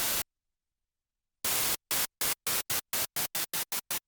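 A synthesizer plays a noise waveform in the style of a recreation of a classic synth track, giving loud bursts of full-band hiss that repeat in gated pulses and speed up toward the end, with no talking.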